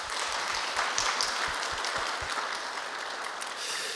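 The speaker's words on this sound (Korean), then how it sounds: "우리 예배부에게 우리 격려의 박수 한번 드릴까요?" A church congregation claps together in warm, steady applause that carries evenly through the room for a few seconds, with no speech over it.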